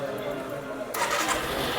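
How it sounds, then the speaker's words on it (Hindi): A 2025 Suzuki Access 125 OBD 2B scooter starts on the first try: a steady low mechanical hum gives way to a sudden catch into a louder, buzzing idle that holds close and even. "फर्स्ट टाइम में ये स्कूटर स्टार्ट हो जाता है।"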